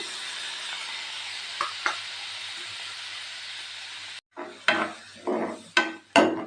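Masala frying in a pan sizzles and hisses steadily with a couple of stirring scrapes, then tamarind water goes in and bursts of louder sizzling and stirring follow.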